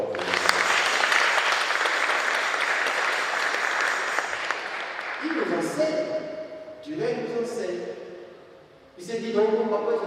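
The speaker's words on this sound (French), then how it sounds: "Acclamons très fort." Loud applause from a church congregation fills the first half, then fades into a voice speaking in bursts with brief pauses.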